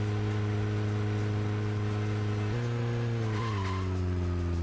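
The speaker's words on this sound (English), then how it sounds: "It's a very effective brake in this game, by the way." A car in Deadly Premonition, with a steady engine drone that shifts pitch abruptly twice as the car brakes hard to a near-instant stop. There is a faint tire squeal and no talking.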